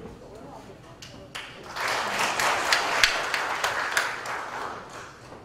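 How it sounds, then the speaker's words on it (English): An audience at a pig health and biosecurity lecture breaks into applause, a dense patter of many hands swelling after a couple of seconds and holding steady, with scattered louder claps. "let's all give a warm round of applause to Dr. Noboru Manabe"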